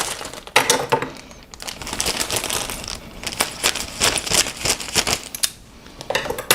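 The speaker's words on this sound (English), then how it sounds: "kind of chomping open the bags here" Plastic bags holding Trumpeter 1/48 A-37B Dragonfly model kit parts are torn and crinkled open close by, a steady run of sharp rustling and crackling bursts with no talk.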